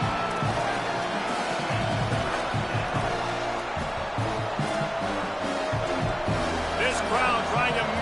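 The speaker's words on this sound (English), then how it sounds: "Crowd trying to make life miserable for this offense." A dense football stadium crowd at a Rutgers vs Michigan game roars steadily throughout, loud and unbroken, with a broadcast voice talking over the din.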